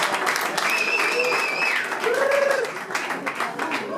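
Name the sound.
audience applause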